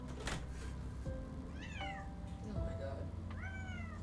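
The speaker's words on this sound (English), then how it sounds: "Do y'all hear my cat?" A house cat meows several times nearby, with rising and falling cries rising over steady background hum and faint talk, the last call drawn out.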